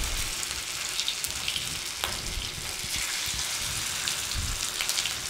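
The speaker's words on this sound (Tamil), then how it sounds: "இப்போ பாருங்கள் மீன் வறுத்துக்கலாம்" Fish frying in hot oil in a kadai, a dense crackling sizzle like pattering rain, steady and close with occasional sharper pops.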